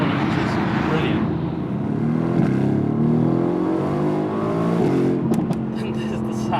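Mercedes-AMG GT C coupé engine revs and pulls hard while driving, a loud, rising and falling V8 roar heard from inside the car, with a few sharp crackles near the end and someone talking over it.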